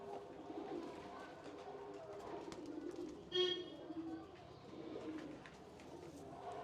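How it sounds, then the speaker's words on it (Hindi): A white Jarcha pigeon cooing close by, a soft rolling coo rising once clearly amid low background hum, with a voice talking nearby. "ये जी मनोवर राणा वाली नस्ल है जी, सफ़ेद जरचा कबूतर है।"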